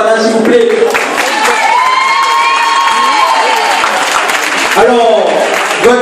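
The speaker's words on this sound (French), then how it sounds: "Il voudrait que vous applaudissez Chibana, s'il vous plaît." A crowd at a Miss Prestige Réunion beauty pageant cheers and applauds loudly, with shouting and voices over steady clapping throughout, swelling again toward the end.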